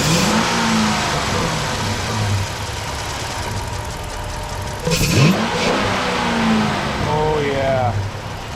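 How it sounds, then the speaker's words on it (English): A 2006 Dodge Magnum 5.7-litre engine with a K&N cold air intake idles, then the throttle snaps open in a sharp rev before settling back, with people talking nearby. "You can hear that throttle open up real good now"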